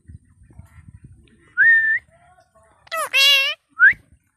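A pet parrot gives three short, bright whistles, one rising, one long warbling trill and a final quick chirp, close and clear after a stretch of soft low murmuring.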